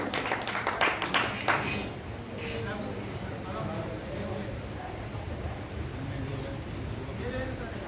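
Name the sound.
audience applause welcoming a guest at a medicinal plants seminar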